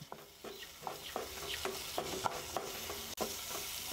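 Tomato and thuthuvalai (climbing brinjal) leaves being sautéed in a pan, heard as a soft, steady sizzle with repeated scraping stir strokes of a spoon, close and fairly quiet, with no talk.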